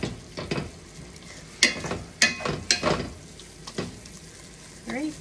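Meat browning in a pan for sliders, a soft sizzle broken by several sharp scraping stirs of a utensil against the pan, with a voice talking briefly near the end.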